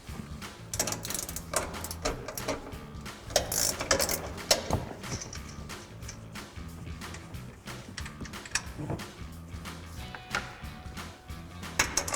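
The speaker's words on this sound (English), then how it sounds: "So I've got a 15mm ratcheting wrench to pop these out." A 15mm ratcheting wrench loosens strut tower nuts on a Ford F-150 during a front leveling kit install, giving a close, continuous stream of rapid metallic clicks with brief pauses and louder bursts between strokes.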